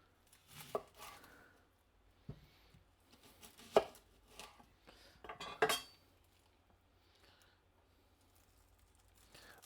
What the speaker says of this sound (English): And we're going to start with the chopping.